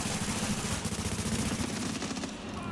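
Rapid automatic gunfire from the video game The Division, dense continuous bursts that stay loud and steady with no talk over them.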